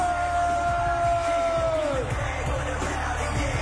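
A wrestling arena crowd cheers and yells for a tag team's SmackDown entrance, with a sustained loud roar and whoops under a long held vocal note that slides downward and fades.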